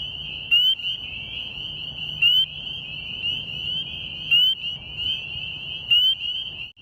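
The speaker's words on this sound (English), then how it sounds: "spring peepers are a really cool species of frog, mainly because of how loud they are in such a tiny package" A spring peeper frog calls with a high, piercing peep repeated steadily, loud and near, with faint background noise.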